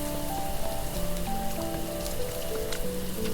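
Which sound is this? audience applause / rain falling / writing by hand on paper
rain falling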